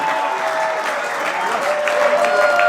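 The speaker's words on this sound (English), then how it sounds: "Let's give Pastor Ashley a round of applause." Applause for a pastor at a marriage retreat in a hotel, steady dense clapping from a gathered crowd with murmured voices and whoops mixed in throughout.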